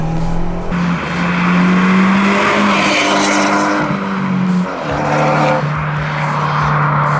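An Abarth 124 Spider, a 170-horsepower roadster, pulls hard in second gear around 4000 rpm, its loud raspy engine drone rising and holding steady, with a brief dip as the revs change and resume, heard from inside the car.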